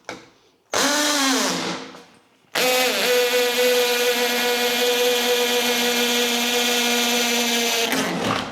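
A hammer drill runs loud and steady in two bursts into hollow ceramic brick, a short one that winds down, then a longer sustained drilling with a strong droning whine.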